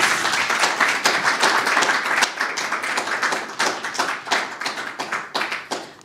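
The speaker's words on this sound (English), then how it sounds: "He deserves a big round of applause as well." An audience at a formal event gives a big, dense round of hand clapping, close and loud, holding steady for several seconds before thinning slightly toward the end.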